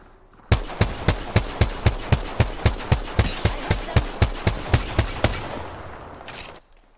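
Loud, close automatic gunfire in a shooter video game: a steady burst of about twenty evenly spaced shots fired in quick rhythm, then a fading tail of noise.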